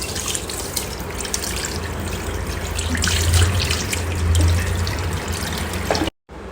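Tap water runs steadily into a sink while a face is washed by hand, with splashing swells in the middle and a brief cut near the end; no one speaks.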